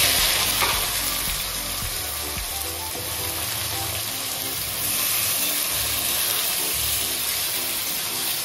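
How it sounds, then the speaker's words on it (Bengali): Onions fry in hot oil with dry red chillies, garam masala and whole cumin, a dense, continuous close sizzle with occasional stirring scrapes throughout. "পেঁয়াজটাকে আমি লাল লাল করে ভেজে নিয়েছি"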